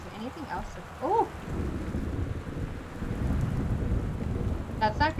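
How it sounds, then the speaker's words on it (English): Thunderstorm with rain outside a house in the Gone Home video game: a continuous low rumble of thunder and steady rainfall building in the middle, with brief tonal bird-like chirps near the start and end. "Very rainy outside, goodness."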